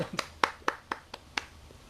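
Hands clap for a performer at an online event, seven sharp claps spaced evenly in a steady rhythm, fairly close and alone with no talk over them.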